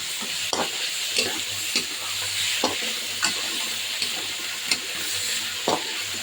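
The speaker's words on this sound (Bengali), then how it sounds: "আদা বাটা রসুন বাটা দিয়ে দিলাম টমেটো কাটা দিয়ে দিলাম" Ginger-garlic paste and chopped tomato sizzle in a miniature toy pan, a steady close frying hiss broken by repeated sharp scrapes and clicks of stirring, with a faint low hum underneath.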